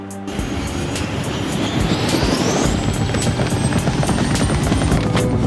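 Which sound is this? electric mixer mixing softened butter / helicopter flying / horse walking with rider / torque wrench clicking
helicopter flying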